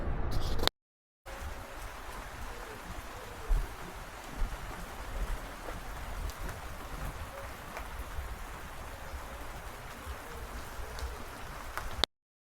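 Steady rain patters down continuously on a surface in Laos, a dense even hiss with occasional louder drops, no voices.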